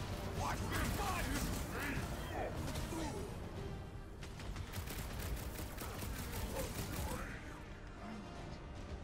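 Rapid bursts of gunfire and mechanical clatter from the Guardians of the Galaxy video game fill the mix, with a voice talking over the action.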